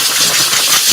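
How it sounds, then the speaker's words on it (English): Blast of compressed air blown through a computer keyboard to clear dust, a loud, steady hissing rush that fills the whole moment up close. "Stand by, loud noise. I'm blowing out my keyboard."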